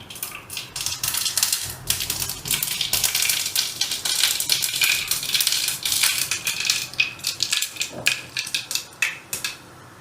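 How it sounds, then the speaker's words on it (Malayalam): Mustard seeds crackling and popping in hot coconut oil, a dense, loud, continuous spatter of sharp pops that thins toward the end, with no voices. "ഒരു ചെറിയ സ്പൂണ് കടുക് ഇടുക."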